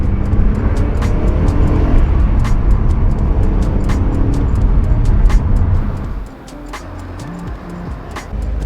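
BMW M3 driving hard on winding roads, its engine a steady loud roar for about six seconds before easing off and dropping to a quieter tone near the end.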